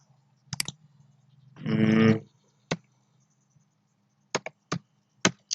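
Sparse, sharp keyboard clicks while typing a short line in MS Word, a few isolated taps spread apart in a quiet room, with one brief louder rustling burst in the middle.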